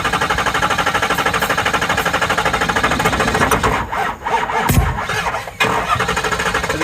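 A Ford 6.0 diesel truck engine cranks with a rapid rhythmic starter chug, then sputters and lets out a sharp backfire bang partway through before the cranking resumes, all close and loud.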